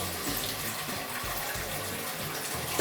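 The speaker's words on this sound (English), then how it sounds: "as you flush the toilet, it actually has a sink above the toilet" Water gushes steadily from the small tap of a Japanese toilet's built-in hand-wash sink as it flushes and refills, a close, continuous splashing stream with low thuds underneath.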